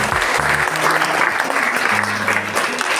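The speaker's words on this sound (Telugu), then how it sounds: "క్లాప్స్ కొట్టండి" An audience claps at an AYUSH Day celebration in Uravakonda, a loud burst of applause that keeps going, with a low tonal hum and murmuring underneath.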